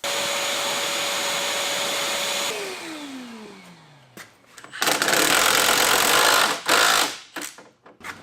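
A loud vacuum cleaner motor whines steadily, winds down, then roars again in bursts as it starts and stops nearby, cleaning out an old Chevrolet Silverado pickup truck.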